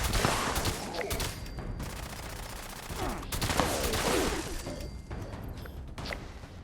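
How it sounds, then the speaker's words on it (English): Sustained gunfire in the video game Fallout 76, dense overlapping bursts of automatic weapon shots rattling almost without pause, loud and close, with sharp cracks and a few whooshing sweeps, no talking. "Someone else shooting at me here?"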